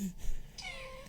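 Faint cat meows from a played cat video, heard briefly and quietly over a low background hum.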